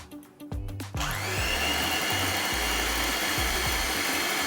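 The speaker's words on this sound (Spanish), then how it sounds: "Le vamos a agregar a nuestra buttercream unas gotitas del jugo de la remolacha y vamos a ir batiendo" A stand mixer whips buttercream tinted with drops of beetroot juice, a few knocks and a rising whir at first, then a loud, steady motor drone with no talking.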